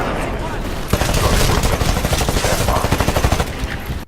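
A silenced gun fires in Titanfall, a stream of rapid, muffled automatic shots in steady bursts that begins abruptly and carries on with little pause over a dense game backdrop.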